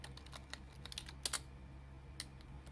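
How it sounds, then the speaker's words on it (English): Quiet keystrokes tap on a computer keyboard while a chat message is typed in Toontown Online. The presses are soft, irregular and close, with a few louder clicks grouped together. "you're able to type your message however you want"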